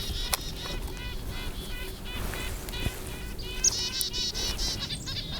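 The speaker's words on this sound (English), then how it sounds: "Chickadees all over here, carrying on." Chickadees call and chatter repeatedly through woods during a bowhunting morning, with bright, busy chirps layered over one another at close to moderate distance and a steady outdoor background.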